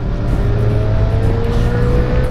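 A Yamaha R6 motorcycle engine on a road outside Madrid holds a steady, loud, close drone with a constant pitch for the whole stretch, with no talking.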